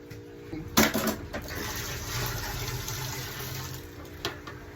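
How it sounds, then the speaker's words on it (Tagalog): Water runs from a tap into coconut milk being prepared for homemade ice cream, a steady close splashing flow with a few louder clatters of container handling. "Pagkatapos ng gata guys, ay lalagyan po natin ng tubig."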